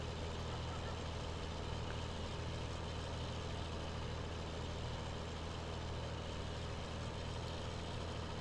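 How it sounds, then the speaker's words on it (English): A tractor engine in Farming Simulator 19, droning steadily and loudly for several seconds with a constant low, heavy hum and no variation. "This poor tractor needs another gear."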